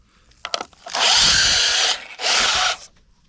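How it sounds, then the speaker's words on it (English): Drill press boring with a 1/2 inch bit, two sustained loud whining bursts of about a second each separated by a short pause, preceded by brief clicks, close and without talk. "This is a 1/2 inch drill bit. Do it on the drill press."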